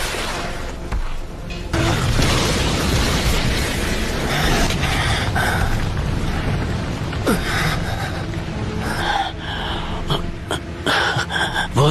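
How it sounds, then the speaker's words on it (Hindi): An anime fire style dragon flame jutsu erupts as a dense, roaring blast and rumble that fills the whole stretch, punctuated by sharper whooshes and hits near the end. "Fire style dragon flame jutsu."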